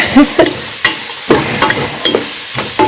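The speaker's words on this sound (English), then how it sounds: "I'm just going to cook that for about 5 minutes" Onions cooking in a pot for turkey breast and sweet potato soup, a close steady sizzle broken by several stirring scrapes and knocks of a spoon, with no speech.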